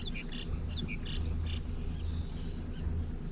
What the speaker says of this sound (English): Birds are stoked.